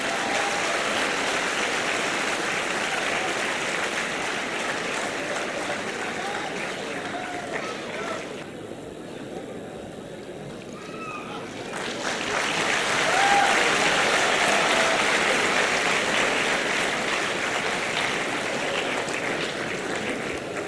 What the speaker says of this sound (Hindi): सबों से अनुरोध कि खड़ा होके give him very very standing ovation.